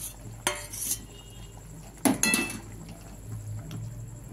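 Pointed gourd pieces dropped into a simmering curry in a pan, giving a few sharp metallic clinks and clatters of utensil against pan over a soft bubbling background.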